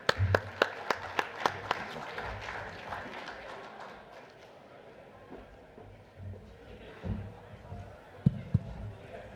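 Scattered clapping from an audience at a panel session as people come and go, sharp claps early then fading into crowd murmur and talk, with a few louder claps near the end.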